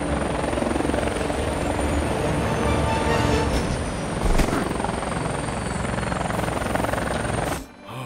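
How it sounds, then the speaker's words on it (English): A cartoon helicopter flies steadily nearby, its rotor chop loud and continuous for about eight seconds before cutting off abruptly at the end; no one speaks. "Hey, I just fly the chopper."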